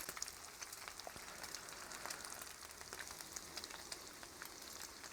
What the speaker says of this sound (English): so far they're looking like bacon. They're cooking up, we're sizzling